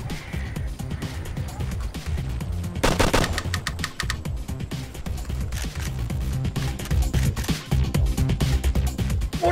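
Continuous gunfire in the video game ARMA: Cold War Assault, a steady rattle of rapid shots with a heavier volley in the middle, busy and loud throughout.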